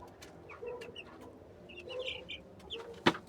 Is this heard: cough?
no